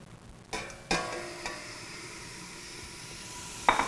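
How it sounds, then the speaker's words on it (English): Beef hitting hot oil in a stew pot over medium-high heat for green chili stew, a quiet steady sizzle broken by a few sharp clatters and stirring knocks from the pot. "You're going to hear some serious sizzling going on."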